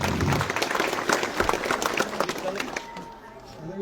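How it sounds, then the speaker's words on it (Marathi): A crowd at a BJP election rally in Maval bursts into dense, loud applause with overlapping claps that taper off near the end, mixed with voices in the crowd. "ताईंसाठी एकदा जोरदार टाळ्या वाजवा."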